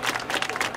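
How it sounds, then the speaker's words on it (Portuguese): Brief burst of crowd clapping at a street rap battle, a dense patter of many hands heard close and loud for under a second. "Palmas pra você"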